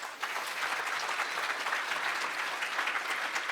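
Conference audience at a security convention applauding the event staff, a steady, dense wash of clapping that carries evenly from start to finish with no voices over it.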